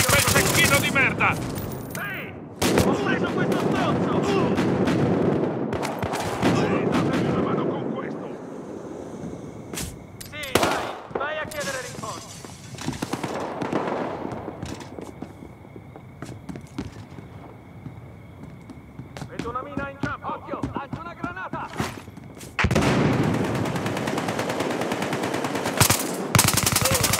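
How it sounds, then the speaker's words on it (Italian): Online Battlefield Hardline match with sniper fire and dense automatic gunfire, loud bursts and single shots recurring throughout amid game effects, with excited voices talking over the action. "Sta sparando un cecchino!"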